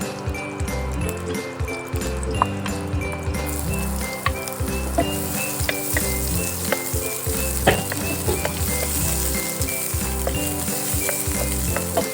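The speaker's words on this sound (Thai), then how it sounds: "เดี๋ยวเราจะมาเจียวกระเทียม เออเจียวหอมแดงกันนะคะ" Garlic and shallots frying in pork fat in a pan, a dense, loud, steady sizzle with occasional stirring clinks and scrapes throughout, no talk.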